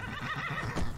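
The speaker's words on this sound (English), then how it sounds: "Behold the demon horse, Shadowmere." Shadowmere, the demon horse in Skyrim Remastered, gives a single loud, close whinny lasting about a second, with a brief swell near the end and no talking over it.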